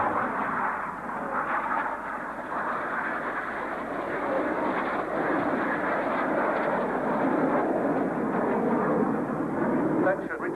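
Jet aircraft of an aerobatic display team, flying in pairs at an air show, pass with a steady, moderately loud roar that holds for several seconds while a commentator talks over it.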